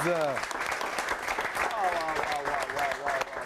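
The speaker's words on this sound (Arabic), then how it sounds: "تصفيق" A studio audience applauds in a dense, sustained burst of clapping throughout, with a voice talking over it.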